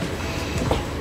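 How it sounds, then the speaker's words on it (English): Riding on a train to Cinque Terre on the Italian coast, a loud, steady rumble of rolling wheels and carriage noise with a brief rattling clack, heard from inside the car. "And we're on the train."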